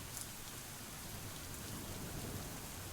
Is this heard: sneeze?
no